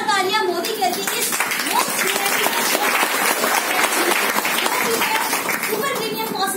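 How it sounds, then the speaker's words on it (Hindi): Steady applause from a crowd at a Modicare product presentation fills the whole stretch, dense clapping with voices mixed in and cheering underneath. "एक जोरदार तालियां"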